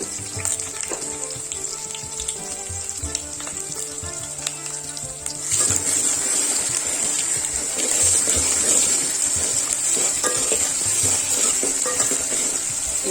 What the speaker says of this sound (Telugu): ఇవి మంచిగా ఫ్రై కావాలి.